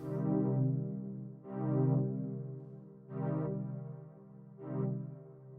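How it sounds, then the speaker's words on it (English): Four sustained synth pad tones, each swelling and trailing off into a deep, booming reverb tail with its low frequencies boosted for a heavy low end. "I've turned this low frequency down because I didn't want a whole bunch of thundery low reverb"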